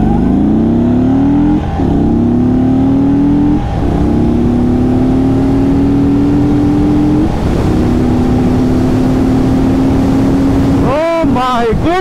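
A 2022 Indian Chief Dark Horse, an air-cooled cruiser motorcycle, pulls hard through the gears, its engine note climbing steadily with brief dips at each shift, close and loud over rushing wind noise.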